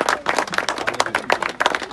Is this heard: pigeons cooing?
no